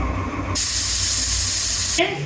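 A pressure cooker releases a loud, sustained hiss of steam that bursts out suddenly, holds steady for about a second and a half, then cuts off.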